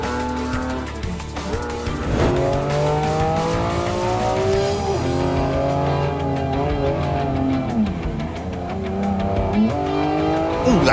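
A BMW M3 CSL tears around a race track, its straight-six engine howling through rising and falling revs as it shifts gears, with tyres squealing through corners, loud and close throughout.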